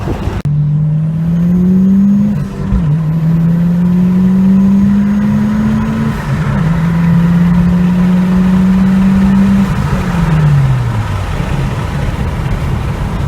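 A Mitsubishi Lancer Evolution VIII accelerates hard through the gears, its loud engine note climbing steadily, dropping sharply at each shift, then rising again across several gear changes before easing off.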